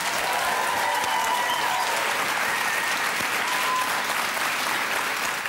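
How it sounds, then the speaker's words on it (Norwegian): Studio audience on a Norwegian entertainment show gives a big, steady round of applause to welcome a fakir, dense and even from start to finish. "Gi en stor applaus til Hove Fjell!"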